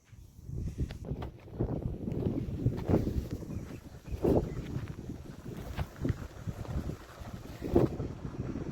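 Cool wind blows in gusts across the microphone, producing uneven low buffeting rumbles that rise and fall, fairly close and moderate in level, with no talking.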